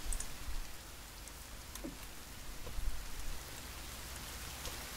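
Steady rain falls in the survival game The Forest, a dense, even hiss that holds at one level throughout with a few faint drips and patters, no voices over it.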